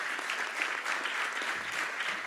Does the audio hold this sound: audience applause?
yes